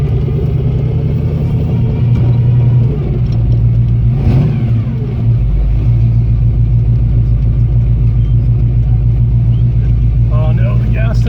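A Ford Mustang with a 351W V8, driving after ten years of neglect, gives a steady low engine drone with a brief swell, heard close under continuous talk inside the car.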